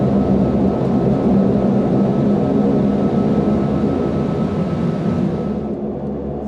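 A Rex Airlines Saab 340 turboprop takes off from Doomadgee Airport with zero flap, its loud, steady engine roar filling the cabin without a break and easing slightly in the last moment.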